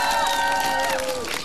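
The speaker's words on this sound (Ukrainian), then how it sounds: "Оплески, оплески Поліні." A crowd at the outdoor "Karaoke on Maidan" show applauds and cheers for a young singer, a steady wash of clapping with a sustained musical tone running underneath throughout.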